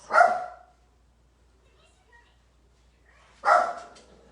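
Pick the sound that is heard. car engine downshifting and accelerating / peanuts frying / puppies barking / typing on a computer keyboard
puppies barking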